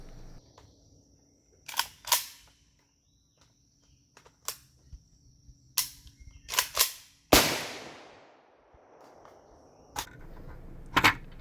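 Sharp single shots from an AK rifle firing 5.45 rounds out of a 45-round magazine, spaced irregularly at about a dozen reports with pauses between, loud and close, one ringing out with a longer decaying tail.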